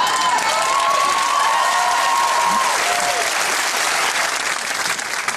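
A studio audience at a celebrity comedy panel show applauds loudly and continuously, the clapping holding steady before easing slightly toward the end.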